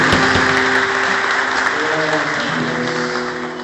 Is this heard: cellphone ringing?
no